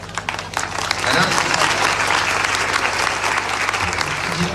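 A worship congregation claps together in sustained, dense applause that holds loud and steady throughout, with a low musical hum beneath.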